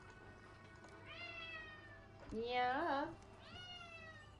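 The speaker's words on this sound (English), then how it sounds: "Can you guys hear her meowing on the live stream?" An indoor cat meows loudly three times, drawn-out calls with the middle one strongest and most wailing, close by over a faint hum; a person briefly speaks.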